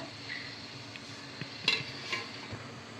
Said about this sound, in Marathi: पाणी उकळले, आपण आहे ना पटकीने प्लेट ठेवून घेऊया।